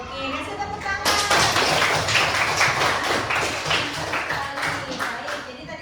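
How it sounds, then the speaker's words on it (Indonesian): Classroom applause from primary school pupils at SD Saraswati, a dense burst of many small hands clapping that starts suddenly after a second and continues steadily to the end, with children's voices mixed in. "Oke, kasih tepuk tangan."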